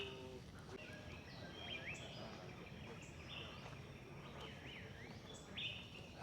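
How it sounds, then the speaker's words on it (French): Birds sing in a tropical forest in Penang: faint, scattered chirps and short whistled calls repeat over a soft background hum, with someone speaking quietly now and then. "Il y a beaucoup d'oiseaux."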